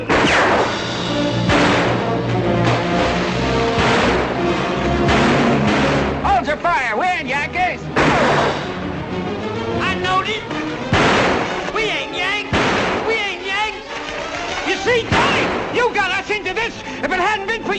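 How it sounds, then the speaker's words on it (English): Gunfire in a 1949 American western film battle, with a series of loud, sharp shots bursting out every second or two over dramatic music and shouting voices. "Their bullets will kill you just as dead. Stop shooting!"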